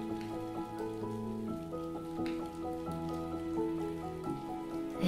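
Gentle rain patters softly and steadily under calm, melodic music, with no voices.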